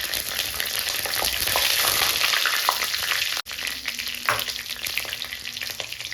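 Spices, curry leaves and green chillies frying in a pan for chicken gravy, a steady loud sizzle with bursts of stirring scrapes, close and continuous, with no voices.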